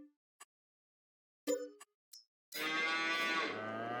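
Cows on a Farming Simulator 22 farm give a few short, scattered calls, then a loud, sustained chorus of overlapping mooing fills the last second and a half.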